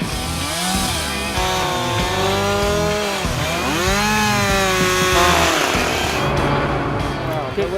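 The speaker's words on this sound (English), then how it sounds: "take a chainsaw and literally notch those angled cuts of the" A chainsaw roars close by, its engine pitch rising and falling as it notches angled cuts into the end of a log, with voices faintly underneath.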